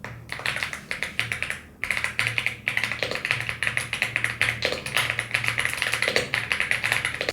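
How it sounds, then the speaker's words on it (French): Rapid typing on a computer keyboard, close to the microphone, with quick irregular clicks and taps and a brief pause near the start, over a low steady hum. "je vais quand même vous faire écouter le son de mon clavier."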